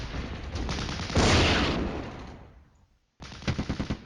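Gunfire from urban combat in the video game Flashpoint Campaigns, with a loud crackling burst swelling and fading, a short silence, then a fresh rapid string of machine-gun-like shots close by.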